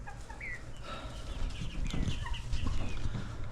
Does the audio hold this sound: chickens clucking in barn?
yes